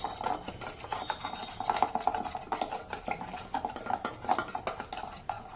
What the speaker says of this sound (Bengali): এবারে এটা আমি ভালো করে মিক্স করে নেব তেলের সাথে।